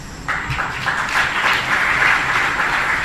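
Hall audience clapping at a Jain religious discourse, a steady wash of applause rising after a brief pause and continuing evenly without talk.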